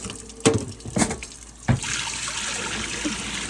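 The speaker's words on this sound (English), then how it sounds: "And I'm just gonna give it a good rinse." Water runs and splashes while a soaked raccoon hide is rinsed after a dish-soap wash, a steady close trickle with a few sharp sloshes early on.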